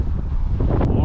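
Strong wind buffets the microphone on an exposed high vantage point near Sheffield, a steady close roar with low rumbling gusts throughout, no clear speech.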